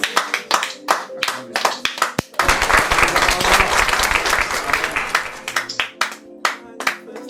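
A church congregation claps and applauds during a service, bursts of hand claps that merge into a dense, sustained round of applause in the middle before breaking back into scattered claps, with a voice heard over them.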